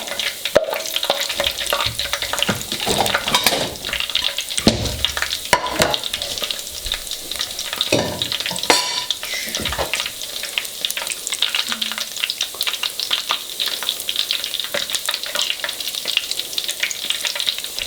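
Peanut butter bread frying in vegetable oil, a steady bright sizzle running throughout with occasional louder crackles and spatters as the pieces are moved, no voices.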